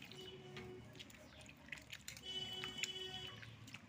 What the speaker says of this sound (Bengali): দেখুন হড়হড় করছে জলটা যেন।